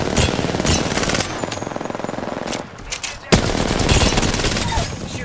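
Rapid bursts of automatic gunfire from a battle-royale shooter game ring out almost continuously, with short gaps and a sharp louder shot midway, while a player's voice talks over the action.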